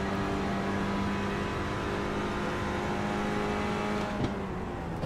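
Renault Clio Cup race cars at the Nürburgring in iRacing, a steady sustained engine drone near at hand as cars run in a slipstream, holding a constant pitch with a brief blip near the end.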